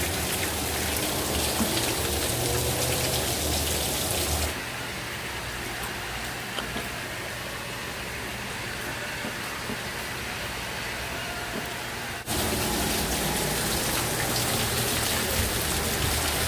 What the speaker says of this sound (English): There's not really much to see other than a lot of rain